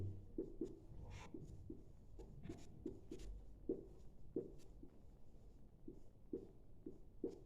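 Pen writing on paper in a Hindi-medium maths lesson on circle circumference, giving quiet irregular scratches and taps close by with low background hum, no speech.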